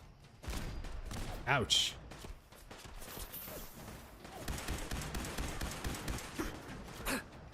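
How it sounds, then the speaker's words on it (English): Grenade explosions and gunfire in the Fallout 4 game, several loud bursts close together over a few seconds, mixed with a man's pained gasp and brief speech. "Big grenades. Lots of them."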